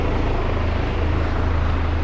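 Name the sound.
helicopter flying to a nearby hospital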